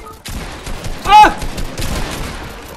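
Rapid bursts of gunfire in the video game Fortnite ring out in a loud cluster about a second in, surrounded by frantic shouting and chatter from several players.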